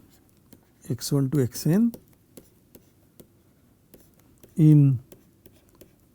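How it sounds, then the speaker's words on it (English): Chalk or marker strokes on a board during a mathematics lecture on Hilbert's basis theorem, a few short scratchy taps and strokes between bursts of a man's speech. "let me write now"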